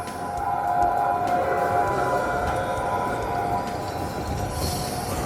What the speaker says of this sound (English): Slowest train ever.